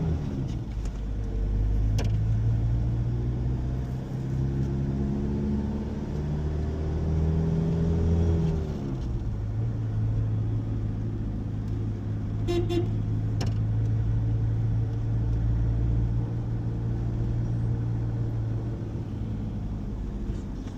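A car drives along a road in Burkina Faso, its engine rumbling steadily from inside the cabin, the pitch rising and falling with gear changes, while a few short horn toots sound partway through.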